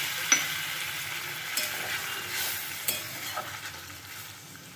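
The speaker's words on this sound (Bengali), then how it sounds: "এবার আমি এর মধ্যে 1/2 কাপ মতো গরম জল দিই।" Sautéed prawn curry in a pan takes about half a cup of hot water and is then stirred: a quiet sizzle and bubbling with scattered spoon scrapes and light taps, close and low in level.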